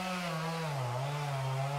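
A chainsaw makes the back cut on a standing tree during felling, running steadily and close for the whole stretch, its engine pitch dipping slightly as it bites into the wood, with no talk.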